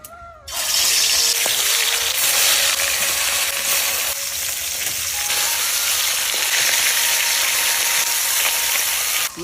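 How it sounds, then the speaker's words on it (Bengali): Pieces of rohu fish rubbed with salt and turmeric fry in hot oil, giving a loud, steady hiss that starts abruptly and holds for several seconds with small crackles. "আর মাছ কটা বাইজে নই"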